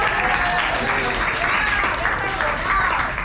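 Audience applause at a comedy-style art night in Chicago, a dense continuous clatter of clapping with voices and cheering mixed in over the full span.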